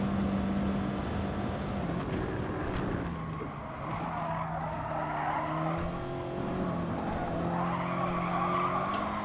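Tyres squealing and skidding under hard braking in the racing game GT Sport, a steady car engine with shifting pitch and sustained tyre squeal close up, with no talk.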